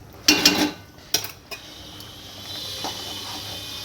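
Stirring mustard and poppy seed paste into a pabda fish curry in a pan, a few clinking scrapes of a spoon against metal near the start, then quieter stirring under a faint steady hiss.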